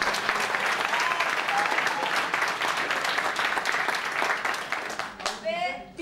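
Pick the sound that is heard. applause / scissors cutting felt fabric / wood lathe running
applause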